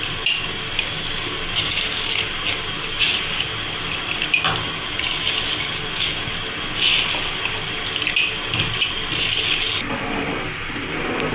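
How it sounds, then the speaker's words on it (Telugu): Rice being poured into a pot of water for chicken biryani gives a steady watery rush and patter across the whole stretch, close and fairly loud, with brief louder splashy bursts and no talking. "ఇప్పుడు బియ్యం వేసేసుకుందాం"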